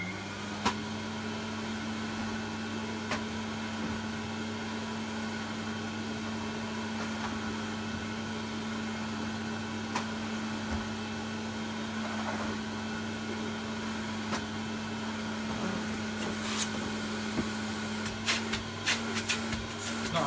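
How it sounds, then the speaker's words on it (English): A Hoover cylinder vacuum cleaner, just repaired and fitted with a pneumatic floor head, runs steadily with a constant motor hum and a strong low tone, close and even throughout with a few faint clicks near the end. "So now we have a working vacuum."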